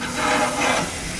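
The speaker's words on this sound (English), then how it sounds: "Oh yeah, hear that sizzle." Fish fillets sizzling on a hot grill, a steady close hiss with a slight swell, loud and continuous with no voices.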